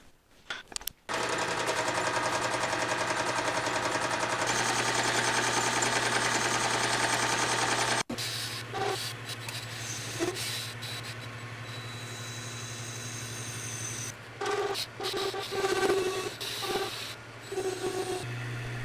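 A metal lathe turns a taper as the compound feeds slowly, giving a steady rubbing, grinding whine with a low motor hum. Partway through the cutting stops, leaving the motor running with scattered clinks and shuffles.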